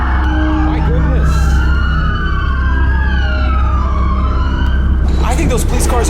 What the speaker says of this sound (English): I think those police cars are coming here